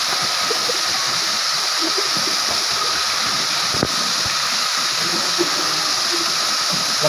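Continuous roar of the Talon-Talonan waterfall fills the scene, steady and close, with a single sharp knock partway through and small scattered low thumps under the rushing water.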